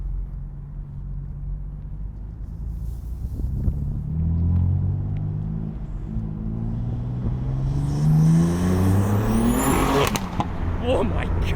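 A BMW F80 M3 fitted with front mount intakes revs up, its engine rumbling low and then climbing through several rising pulls, loud and close, with a sharp crack near the end.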